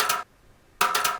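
Two bright, sharp rimshot hits sit apart with a short silent gap between them, played dry and uncompressed, each crack decaying quickly with no voices over them.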